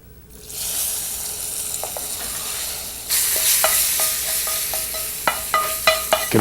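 Spices and potatoes hit a hot frying pan with a loud, steady sizzle that swells midway, followed by a run of clattering scrapes and knocks as they are stirred.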